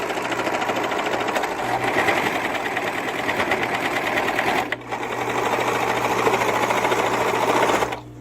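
A sewing machine stitches and trims the edge of a little girl's dress, running at a steady, loud, fast mechanical whir with a brief pause midway before the needle picks up again.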